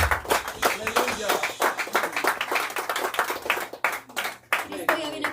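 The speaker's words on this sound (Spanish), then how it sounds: "dar un fuerte aplauso" A church congregation at a Spanish-language worship service claps together in a steady, rhythmic beat. The clapping is loud and close, with voices speaking or calling out over it.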